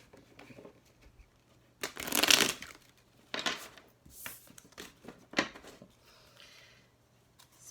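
A deck of tarot cards being shuffled close up, quiet riffles with a few louder flutters and snaps in short bursts, no voices.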